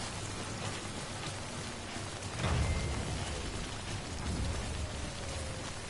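Timefall in Death Stranding, a dense, steady downpour hissing on surfaces, loud and close, with a brief deeper rumble rolling through midway.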